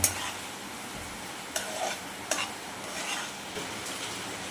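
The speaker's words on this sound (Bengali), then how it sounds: "সুজিটাকে দিয়ে ভালো করে আমরা নেড়ে নেব" A spoon stirs semolina into chhana for pera sandesh, giving soft, low scraping and a few sharp clinks against the vessel at irregular moments, quiet and close.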